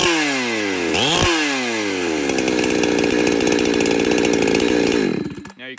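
A chainsaw engine is tuned at wide open throttle, revving up with a quick rise and dip, then holding a loud, buzzing, rattly scream close by for several seconds before cutting back.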